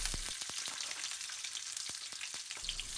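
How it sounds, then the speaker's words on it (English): Steady crackling sizzle of onions frying in hot oil in a pan, with a few sharp pops and clicks throughout, no voices. "Heat a pan and add the oil until it's sizzling."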